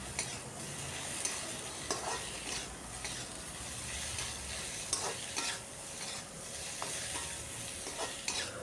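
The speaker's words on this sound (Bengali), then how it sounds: "এটাকে খুব ভালো করে এখন কষিয়ে নিচ্ছি।" Taro and mourala fish are sautéed with salt in a pan, a steady close sizzle with rhythmic stirring scrapes and light spatula taps recurring every second or so.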